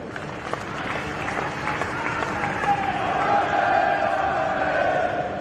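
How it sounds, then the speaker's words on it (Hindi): A large audience at the naming ceremony of Shaheed Bhagat Singh International Airport in Chandigarh claps steadily, a dense continuous round of applause with scattered cheers and crowd voices, filling the hall throughout. "जिसके लिए मैं चाहूंगा कि एक बार आप सब जोर से एक बार ताली बजाएं"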